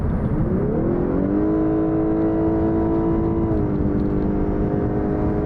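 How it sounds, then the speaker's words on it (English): A 2018 Lexus LS 500 Hybrid's engine revs and climbs in pitch as it accelerates, then settles into a steady loud drone, heard from inside the car. "getting on the gas so you can hear how loud the engine is"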